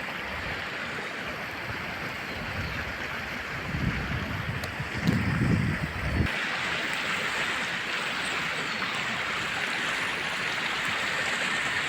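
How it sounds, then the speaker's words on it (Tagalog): River flowing near Tuyoso Falls in Davao de Oro, heard as a steady, broad rushing of water with wind buffeting the microphone and a louder churning surge midway. "Ayan yung ilog mga idol."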